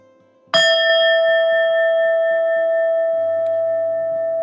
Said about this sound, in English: now at the sound of the bell